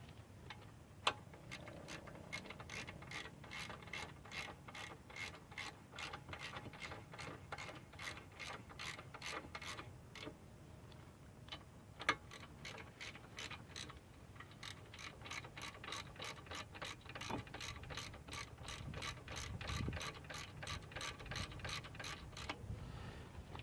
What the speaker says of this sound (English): I have a 15mm socket, so we're going to put that on, tighten these guys up